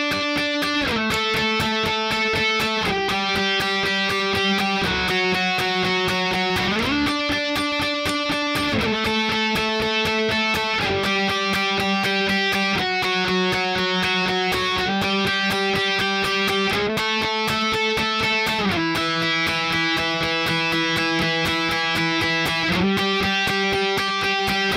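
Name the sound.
electric guitar playing intro lead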